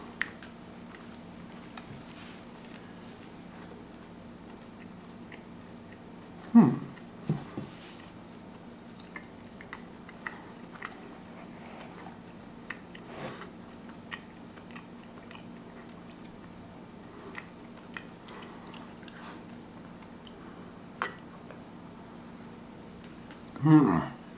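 Soft chewing of a brownie with potato chips, made up of scattered small crunches and clicks over a quiet background, with a couple of louder bites.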